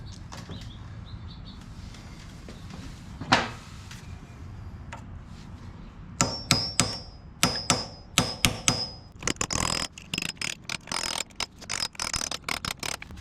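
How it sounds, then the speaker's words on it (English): Screwdriver wedged into a 1950 BSA B33 clutch basket to hold it for removal: a burst of sharp metallic clanks and clicks in a workshop, quiet at first, then repeated hits and ratcheting taps. "I'll just stick a screwdriver in here and try to get this off."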